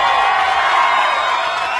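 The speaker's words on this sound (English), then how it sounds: "This crowd right here. Sacramento, you showing up." A crowd at a Bassmaster Elite fishing tournament weigh-in in Sacramento, California, cheering and whooping in a loud, steady roar that fills the whole moment.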